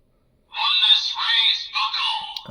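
A bright electronic chime from a Premium DX Memorial Oneness Raise Buckle, a Kamen Rider Geats toy belt buckle, with warbling synthesized tones that rise and fall for about two seconds. No one speaks over it.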